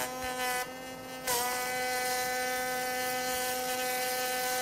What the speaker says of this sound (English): The second profile cut is made in the same manner as the first.